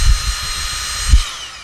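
A hand-squeezed camera lens dust blower gives two short, close puffs of air, about a second apart, over a faint steady background hiss.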